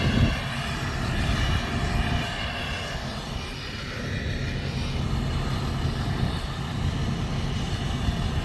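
A loud truck engine in a video game drones steadily and close throughout, a dense broadband roar with a harmonic hum and no pauses.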